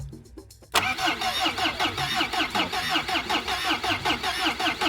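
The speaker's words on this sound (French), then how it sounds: "miracle, je tourne la clé et là, Allez, laisse-la préchauffer." An old, worn-out diesel car engine, after glow-plug preheating, cranks briefly with a few slow turns before catching and settling into a loud, steady, rhythmic clattering idle close by.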